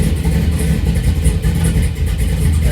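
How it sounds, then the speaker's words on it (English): A Pontiac GTO engine, fitted with oversized fuel injectors, idles slightly rough after a fuel upgrade, a loud, close, continuous low rumble with steady pulsing and no talk. "she's running. She idles a little rough because the fuel injectors are really big."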